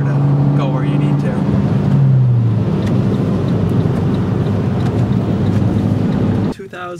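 A 2011 Volkswagen Jetta GLI with a manual gearbox drones steadily from inside the cabin, its engine tone sliding downward as it downshifts, with wind and road rumble throughout and a sudden drop near the end.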